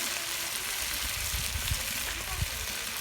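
Chicken meat stir-fried as kosha in a pan gives a continuous loud sizzle, broken by soft scraping thumps of stirring.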